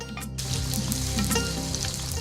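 Oil heating in a hot kadai gives a steady, close sizzle with a few faint clinks, running on its own with no talk.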